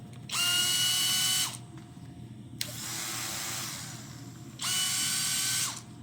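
IR Tools 20V brushless cordless polisher/sander running on low speed, a steady whirring motor hum that spins up and stops in two close, even bursts, with a quieter whooshing stretch between them.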